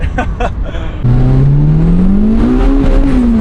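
A Toyota Celica GT-S turbo engine at full throttle, heard from inside, climbs in a loud rising whine after a brief lower rumble, the pitch sweeping steadily upward as it pulls hard.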